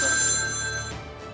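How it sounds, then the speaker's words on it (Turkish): Telephone ringing in a video game, a bright electronic bell tone held steady and close for about a second before fading, with no voices over it. "bir telefon var. Bekleyin. Çalıyor."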